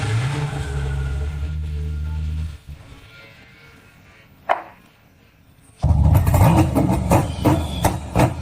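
A Lamborghini Huracan converted to an LS engine with a manual gearbox drones loudly, drops away to near quiet with one brief blip, then bursts back into a loud, roaring rev.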